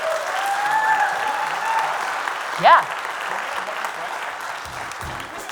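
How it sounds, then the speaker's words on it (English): An audience at a student action event applauds steadily, with a brief cheer or shout rising above it and voices talking through the clapping. "please give them a huge round of applause."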